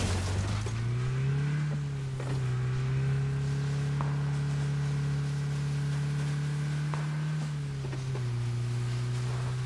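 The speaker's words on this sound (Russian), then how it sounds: "Тачка едет." A car driving in the video game PUBG, its engine a steady low drone that shifts pitch as it speeds up and eases off, close and continuous throughout with no talk.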